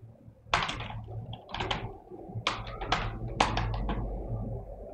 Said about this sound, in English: And now we're gonna start typing the code